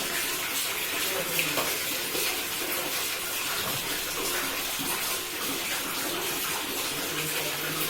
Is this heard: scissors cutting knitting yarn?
no